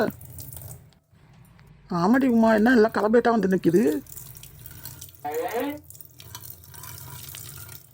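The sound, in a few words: water from a tap filling pots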